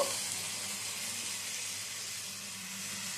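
Ginger and garlic paste stirred in a hot pan, giving a steady close, bright hissing sizzle that fades slightly over a few seconds, with no voices.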